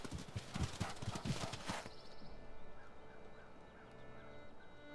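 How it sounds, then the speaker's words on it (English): Hoofbeats of a barbarian horse archer in Civilization VI, a quick busy clip-clop loud for the first two seconds, then cutting off to leave quiet game ambience with faint soft tones. "Barbarian horse archer."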